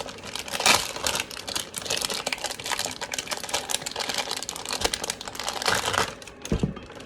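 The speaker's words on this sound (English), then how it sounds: "now we're going to cut the sharp cheddar cheese" Knife slicing through a block of sharp cheddar cheese in a home kitchen, a close, crisp run of crunchy, crackling cuts with brief scraping bursts and a few sharper knocks against the board toward the end.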